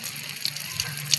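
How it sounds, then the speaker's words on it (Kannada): Rain falls outdoors around a round shrub in a steady, close hiss of water, with a few brighter spatters rising above the constant wash and no voices. "ನೋಡಿ ಸ್ನೇಹಿತರೆ, ಈ ಥರ ಮಳೆ ಬರ್ತದೆ."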